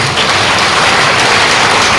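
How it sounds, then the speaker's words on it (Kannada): Loud, steady applause from an audience of about fifty poets at a literary gathering in Hassan, dense and continuous for the whole stretch with no talk over it. "ಜೋರಾಗಿ ಚಪ್ಪಾಳೆ ಹಾಕಿ 50 ಜನ ಕವಿಗಳು"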